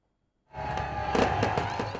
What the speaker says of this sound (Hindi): रात 12 बजते ही शानदार आतिशबाजी के साथ साल 2023 को खुशामदीद कहा गया